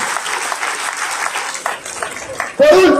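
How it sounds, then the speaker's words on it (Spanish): Crowd applause at a political rally in La Nápoles, Mexico City, starting as a dense wash of clapping under a raised speaking voice and swelling louder near the end. "Y un aplauso a Leti que tiene esa tarea complicada, pero que le va a ir muy bien."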